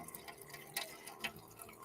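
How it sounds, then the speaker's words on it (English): Water is drawn by a pump into the tube of a water filter, a faint, low trickle and gurgle with a few soft drip-like clicks, heard alone. "you're going to start to see this water enter into the tube"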